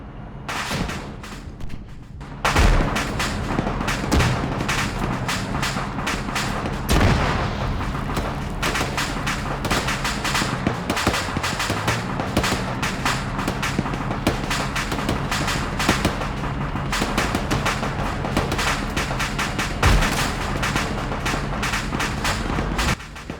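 Rocket and artillery-style fire in the Arma 3 battlefield game during a Yugoslavia-set assault on Topolin, with loud continuous booms and gunfire rumbling almost nonstop after a brief quiet start.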